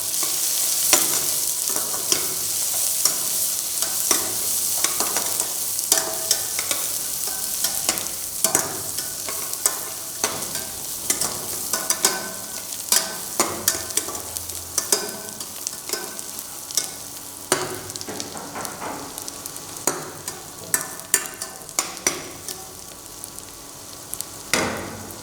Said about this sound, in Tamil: பிறகு பொடியாக நறுக்கி வச்ச பெரிய வெங்காயத்தையும் 200 கிராம் சேர்த்து பொன்னிறமாக வதக்கணும்.